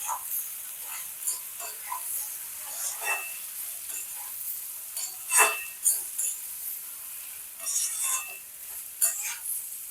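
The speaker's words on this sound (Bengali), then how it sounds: "এবার সমস্ত মশলাগুলো ধুদুলের সঙ্গে ভালো করে মিশিয়ে নেব।" Sponge gourd and spices are stirred together in a hot pan, with soft sizzling and intermittent scraping and clinking from the spoon in irregular strokes, close and moderately quiet, with no talking.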